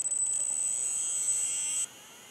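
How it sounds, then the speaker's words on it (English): A Losi Promoto MX RC motorcycle's flywheel spins up with a steady, high-pitched electric whine that holds loud and constant, then drops off abruptly near the end. "Now let's go ahead and turn the flywheel on. This is going to sound like a jet engine"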